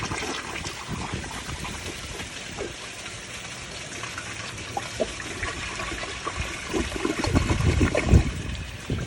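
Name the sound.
1991 Kohler Wellworth Water Guard toilet flushing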